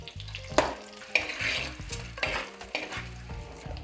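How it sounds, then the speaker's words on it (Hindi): Egg curry masala with turmeric and red chili sizzles and fries in a pan, stirred in repeated scraping strokes about every half second, close and fairly quiet, with no talking. "इसको धीरे धीरे हम चलाते रहेंगे ताकि ये अच्छे से फ्राई हो जाए"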